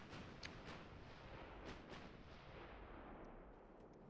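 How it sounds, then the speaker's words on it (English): Naval guns firing high explosive shells in the warship game Ultimate Admiral: Dreadnoughts, heard as several distant booming shots over a steady low rumble of battle ambience. "Enemies still firing high explosive"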